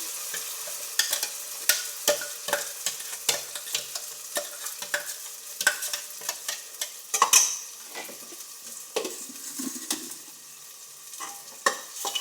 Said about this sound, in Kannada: ಎಣ್ಣೆ ಚೆನ್ನಾಗಿ ಫ್ರೈ ಮಾಡ್ತೀನಿ. ಚೆನ್ನಾಗಿ ಫ್ರೈ ಆಗಲಿ.